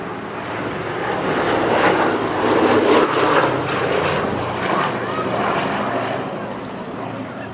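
Droning engines of a Boeing B-17G bomber at an air show roar steadily, a loud continuous rumble that swells slightly in the middle as the plane passes, with faint voices underneath.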